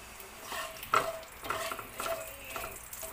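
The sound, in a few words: cloves frying in oil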